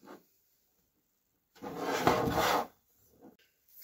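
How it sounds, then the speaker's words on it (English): Parts of a handmade screwdriver, a handle, ferrule and blade, being fitted together, giving one short burst of rubbing and scraping, close and fairly loud, with faint handling noises before and after. "And then we will put the screwdriver together."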